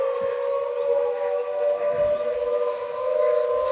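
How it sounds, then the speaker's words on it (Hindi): A long, steady siren wails outside the Supreme Court during a two-minute silence, holding one sustained tone at moderate distance, with faint low background rumble beneath. "मेरे बैकग्राउंड में आप सायरन की आवाज़ सुन सकते हैं,"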